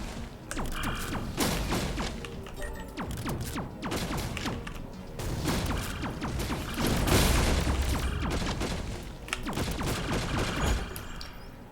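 Razor Rounds weapon firing in the video game Cosmic Coliseum: rapid repeated shots in dense bursts with thumping impacts and mechanical clatter, loud and continuous with brief pauses.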